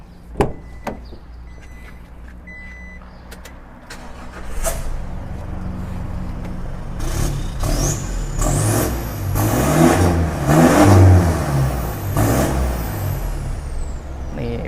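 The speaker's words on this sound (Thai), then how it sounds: "เดี๋ยวเซลต้นไปเปิด สตาร์ทรถให้ได้ยินเสียงกันด้วย" A 2022 Isuzu pickup truck with a rear tailpipe and a heavy-duty 5-ton suspension, heard after a few clicks and thumps as the engine starts and settles into a steady, fairly soft idle, with no talk.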